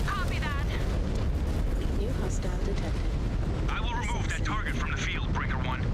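Missiles explode in a Mechwarrior 5 Clans battle, a continuous roar of booms and blasts layered with weapon fire and mech noise, loud and sustained throughout.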